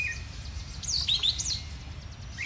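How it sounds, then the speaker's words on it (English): A bird sings outdoors on a spring day, with bright chirping phrases rising in the middle of the moment over a steady low background rumble. "And I'm thankful for that bird singing"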